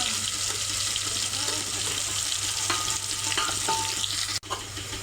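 Ground onion, garlic and coconut paste frying in a pan, a steady close sizzle with occasional stirring scrapes and a brief clunk near the end.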